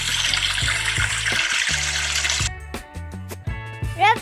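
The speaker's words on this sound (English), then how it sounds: "Shower to clear shampoo." A shower rinsing shampoo from hair in a hair transplant surgery hospital game, a loud rushing water spray that cuts off midway, followed by rhythmic plucked music notes and rising chimes.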